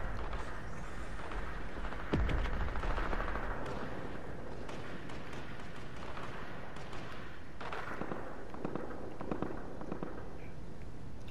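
Video game gunfire crackles in rapid, uneven bursts of sharp shots, with one heavier bang early on over a dense, steady battle din.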